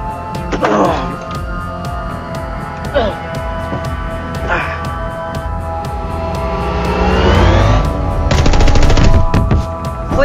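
Machine-gun bursts and gunfire from the WestWorld trailer, rapid rattling volleys over a driving music score with an aircraft-like roar building, while voices speak commands over it.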